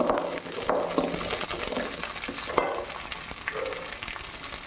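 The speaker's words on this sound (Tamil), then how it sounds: "வரமிளகாய் போட்டுருக்கேன் மாதிரி நல்லா கொஞ்சம் சவுண்டு வர வரைக்கும் வரக்கணும்" Small onions and dried red chillies fry in hot oil for a mutton curry, giving a steady close crackling sizzle with scattered sharper pops and stirring scrapes throughout.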